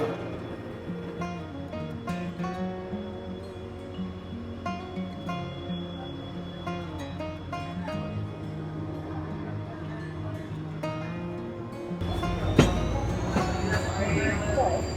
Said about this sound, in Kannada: ಈಗ ನಮ್ಮ ಟ್ರೈನ್ ಸ್ಟಾರ್ಟ್ ಆಗೋಯ್ತು